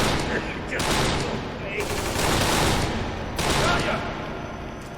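Bursts of rapid gunfire crackle in the Kane and Lynch 2: Dog Days shooter on Xbox, dense volleys coming in waves with brief lulls between, loud and sustained, with a person talking at times.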